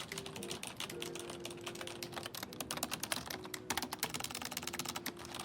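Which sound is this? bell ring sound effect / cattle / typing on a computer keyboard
typing on a computer keyboard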